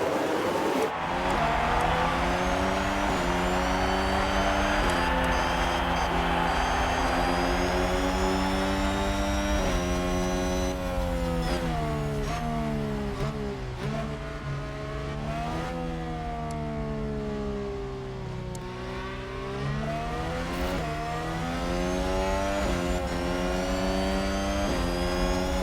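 Formula 1 cars in the racing game F1 Manager 22 roar away from the race start at the British Grand Prix. Several high-pitched engines rise and fall through gear changes, loud and sustained throughout.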